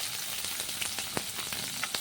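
Chopped onion frying in hot oil with cardamom, for a chicken kosha, making a loud, dense, continuous sizzle with scattered pops and crackles, close up with no talking.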